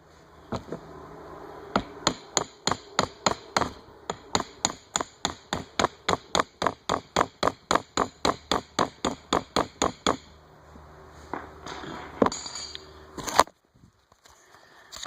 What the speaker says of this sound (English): you can set a brass drift against it and tap it off with a hammer